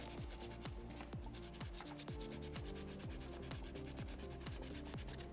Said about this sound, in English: this stone has no grain to it, you don't have to just sand it one way. You can go in circles, back and forth, up and down